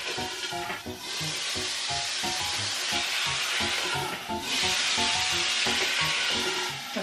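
Marinated chicken adobo meat with ginger frying in hot oil, a steady loud sizzle with scraping and stirring knocks from a utensil in the pan.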